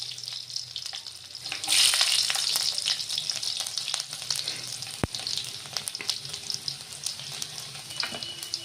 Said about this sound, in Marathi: यामध्ये आता जिरं टाकायचं आणि आता यामध्ये लसूण टाकायचा.